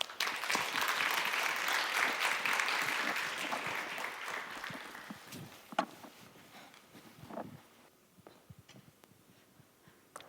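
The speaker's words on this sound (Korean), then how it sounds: "우리 큰 박수로 우리 감독님 모시도록 하겠습니다" A church youth-service audience welcomes a sand art performer with loud applause that swells, then thins out into scattered claps and fades toward near silence.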